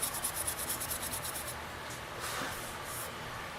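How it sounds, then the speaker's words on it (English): Quick rhythmic scrubbing strokes of steel wool across a wooden napkin ring, removing sanding rings, close up, followed by a few slower, longer rubbing passes. "I was going to go over it with a little bit of steel wool."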